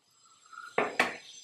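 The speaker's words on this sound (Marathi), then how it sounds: "सर्व्हिंग बोलमध्ये काढून घेते" A ladle scrapes and clinks twice against a serving bowl while coconut-milk corn curry is served. Two sharp, close clinks come about a fifth of a second apart over a faint background hum.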